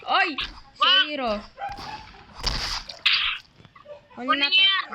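A dog in a zombie video game gives several sharp barks and yips, mixed with people talking over it throughout.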